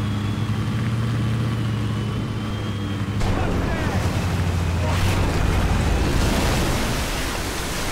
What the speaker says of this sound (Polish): Płynę, ale fale są nieziemsko wielkie.